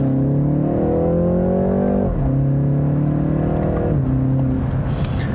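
A 2019 BMW 330i xDrive's engine induction noise pulls strongly through two gear changes of its ZF 8-speed automatic, pitch climbing steadily then dropping at each shift, loud and close inside the cabin.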